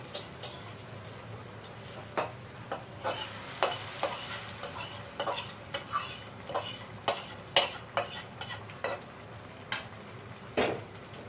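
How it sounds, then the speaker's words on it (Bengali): Fried onions are tipped into a simmering curry in a pan and stirred, giving repeated scraping spoon strokes against the metal and clinks over a soft sizzle, close by with no talking. "এবার আমি পেঁয়াজ ভাজাটা এই তরকারির ভিতরে ঢেলে দেবো।"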